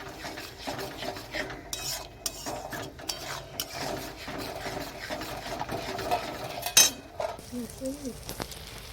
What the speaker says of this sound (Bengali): যতক্ষণ না তেল ছাড়ছে ততক্ষণ এটা আমি কষিয়ে নেবো ভালো করে দই দেওয়ার পর